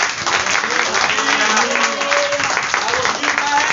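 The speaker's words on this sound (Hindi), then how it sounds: "एक बार जोरदार ताली प्रभु के लिए।" An Easter church congregation claps for God, a steady mass of applause with voices calling out over it.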